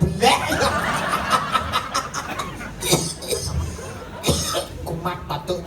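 Several short, bursty coughs mixed with snickering laughter, close by, with a few voices in the background, during a Calonarang performance at a Balinese temple in Denpasar.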